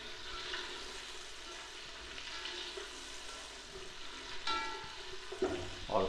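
Chopped capsicum frying in a pan for vegetable fried rice, a steady close sizzle with light stirring scrapes, a few louder clatters near the end, and no talking.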